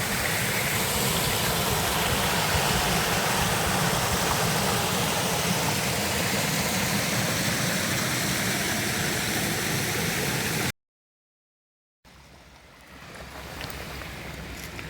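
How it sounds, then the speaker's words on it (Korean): Year-round stream in a forest valley rushing loudly and steadily, then cutting off briefly and giving way to quieter outdoor ambience. "이거는 사계절 흐르는 물이네"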